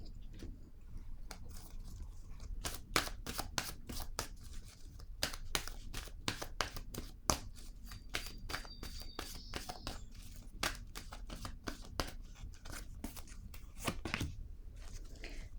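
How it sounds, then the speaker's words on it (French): Playing cards being laid down one after another during a reading, a long series of soft, crisp slaps and flicks at an irregular, fairly steady pace, faint and close. "Je vais déposer une autre carte."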